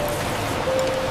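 Steady rain falls on a rainy night around a tree house, a soft continuous hiss of drops on surfaces, even and moderately loud throughout with no voices.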